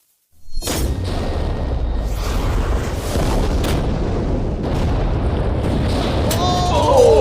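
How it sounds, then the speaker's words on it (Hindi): A sudden loud blast kicks in, followed by a sustained roaring, rumbling wash of explosion noise that stays heavy and dense throughout. "माय गॉश, तेज धमाका था"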